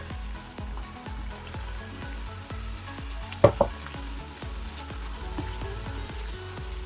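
Mackerel fish balls being stirred into a bubbling curry with mustard oil and naga pickle, a rhythmic sizzle and pop with a couple of sharp spatula scrapes midway, with no talking.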